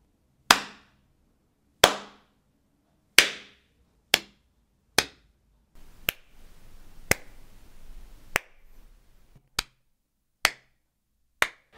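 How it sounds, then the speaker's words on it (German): Single sharp hand claps in a room treated with an acoustic curtain, about a dozen spaced claps, each with a short fading tail of room echo, and a faint shuffling noise between them midway. "Jetzt klatsche ich nochmal so ein bisschen und zeige euch nochmal, was das jetzt nur alleine von dem Vorhang ausmacht."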